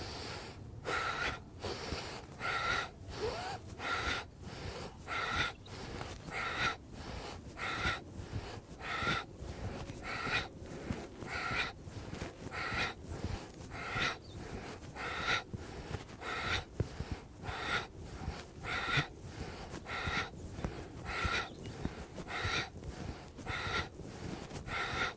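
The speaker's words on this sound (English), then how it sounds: "we'll practice this 20 times with active breathing, inhaling for a count of 2 and exhaling for a count of 2" Forceful yoga breathing goes on throughout: sharp, rhythmic inhales and exhales at an even, quick pace, each breath a short rushing burst, repeated steadily and heard close up.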